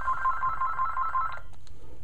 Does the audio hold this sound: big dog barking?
no